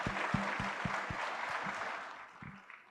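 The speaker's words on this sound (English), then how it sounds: "Let's give him a huge round of applause." Applause from a conference audience, fairly loud at first with a few distinct sharp claps, then gradually fading away.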